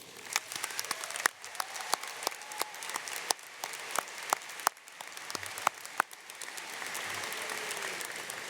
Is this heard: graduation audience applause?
yes